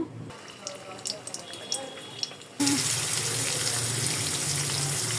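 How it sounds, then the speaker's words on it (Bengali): Rohu fish pieces rubbed with salt, turmeric and chili hit hot oil in a wok, breaking into a loud, steady sizzle that runs unbroken after a few quieter clinks and kitchen sounds. "তো মাছগুলো ভাজতে বসিয়ে দিলাম।"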